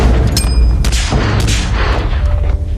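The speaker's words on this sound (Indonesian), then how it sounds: "Sersan Kek kemudian memanting tubuhnya agar ledakan granat tersebut tidak melukai pasukannya yang lain" Grenade blast in a war film, heavy booming explosions and rumbling detonations rolling loud and close, with sharp cracks amid dense battle noise and no talk.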